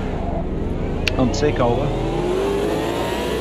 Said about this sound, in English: It's got this amazing V8 burble